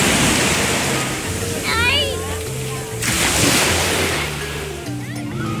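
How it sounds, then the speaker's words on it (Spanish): Surf washing onto a beach at Destin, Florida, a steady loud broadband rush with surges, while voices and children talk over it throughout. "Y aquí una playita más en Florida, en la parte de Destin."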